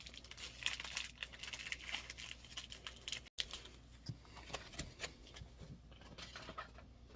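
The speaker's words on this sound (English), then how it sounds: "Sorry for the crinkling here. I got another packet to open." A plastic packet is torn open with close, faint crinkling and rustling, irregular and continuous, and no voices.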